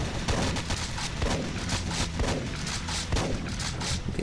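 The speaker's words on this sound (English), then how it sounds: "We have freaking turrets over here" Automated turrets fire in Operation Serpent's volcano level, a steady run of rapid, booming shots with a continuous rumbling bed, loud and close throughout.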